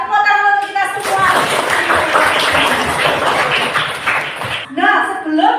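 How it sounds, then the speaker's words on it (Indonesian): A classroom of students claps together in a sustained burst of hand clapping lasting several seconds, loud and close, with a teacher speaking before and after. "Tepuk tangan untuk kita semua."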